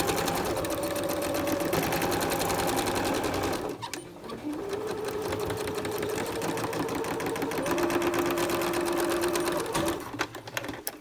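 A sewing machine stitches elastic onto a cloth face mask with a fast, close mechanical whirr, pausing briefly partway, then running again in back-and-forth bursts.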